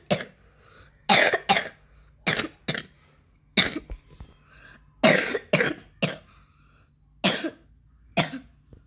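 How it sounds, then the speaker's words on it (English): A series of about a dozen sharp coughs and throat-clearing bursts in quick, irregular clusters, close and loud, from a lone voice with no speech in between. "Sorry, I coughed."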